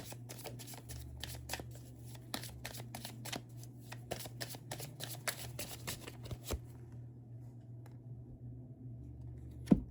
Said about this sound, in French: il y avait des cartes tournées, je vais les reprendre